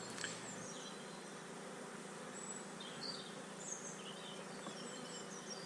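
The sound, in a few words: honey bees buzzing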